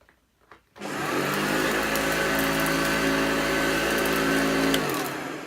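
A Hoover Junior U1206 upright vacuum cleaner with an LED dirt-searcher light switches on after a brief click and runs with a steady, loud motor whine and airflow roar that holds evenly throughout.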